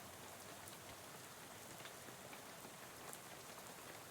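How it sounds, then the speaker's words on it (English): Rain splattering on a window in the game Shadows Over Loathing, a soft, steady hiss with faint scattered drops, continuous and quiet with no voices. "soon you're dozing off to the sound of rain splattering on the window beside you"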